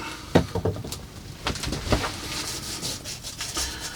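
Gentle rubbing and brushing of dirt from the trunk of a small myrtle tree, heard as soft, close, irregular scrapes and wooden scuffs with a few sharper strokes, no talking.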